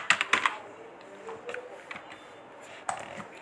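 Quick bursts of computer keyboard typing while entering invoice columns into an Excel spreadsheet, close and fairly quiet, with clusters of keystrokes separated by short pauses.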